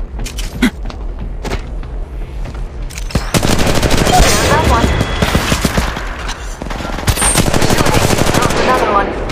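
Automatic weapon fire in the Apex Legends Mobile battle royale game: loud, dense rapid-fire bursts that grow heavier and nearly continuous midway, with brief in-game voice lines mixed in.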